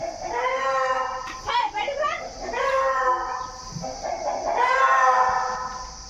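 A rooster crows close by in long, strained calls, with more crowing following after a short pause.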